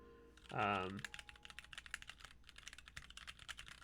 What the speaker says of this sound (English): I could see typing on this a long time and not getting fatigued in the fingers for sure